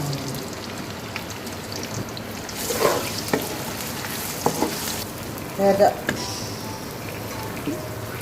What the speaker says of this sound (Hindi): तो अब हम इसको ब्राउन होने तक फ्राई करेंगे।